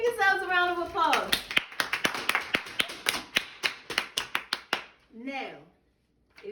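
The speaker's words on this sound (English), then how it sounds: "Give yourselves a round of applause." A classroom of students claps loudly and close by. Uneven rhythmic clapping starts under a voice, comes clearer for about four seconds, then stops, and a brief voice follows.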